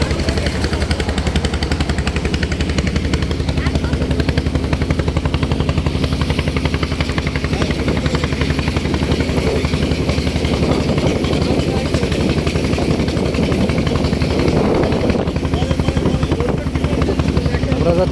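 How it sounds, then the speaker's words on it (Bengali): A trawler boat's engine thrums in a constant, loud, rapid mechanical drone on a coastal channel near the sea in Barguna, with voices faint beneath it. "ট্রলার"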